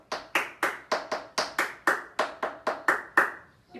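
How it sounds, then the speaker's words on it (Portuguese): In an intermediate tap dance lesson, sharp, evenly spaced percussive hits from tap steps and hand claps repeat about a dozen times in a steady quick rhythm, close and distinct with no talking. "Se você quiser fazer 3 steps com 2 palmas,"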